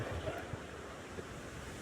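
Strong sea waves surge and wash steadily with broadband roar and wind buffeting the microphone, continuous and fairly loud throughout, likely heard from a boat out on the water, with no talking.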